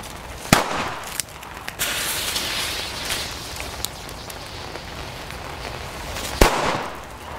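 Super Böller 2 firecrackers bang on New Year's Eve: two sharp loud cracks stand out, one near the start and one near the end, with scattered smaller pops and crackling over a constant background of distant fireworks.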